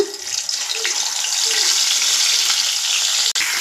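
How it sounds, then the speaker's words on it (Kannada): Masala-stuffed eggplants slid into hot oil for a Kannada garlic eggplant curry, answered by a loud, steady crackling sizzle that builds and holds throughout with a few soft clinks near the start. "ಎಣ್ಣೆ ಕಾದಿದೆ ಈಗ ನಾನು ಬದನೆಕಾಯಿನ ಮಸಾಲೆ ತುಂಬಿಟ್ಟಿದ್ವಲ್ಲ ನೋಡಿ ಈ ಬದನೆಕಾಯಿನ ಈ ರೀತಿ ಹಾಕ್ಕೊಳ್ಳೋಣ"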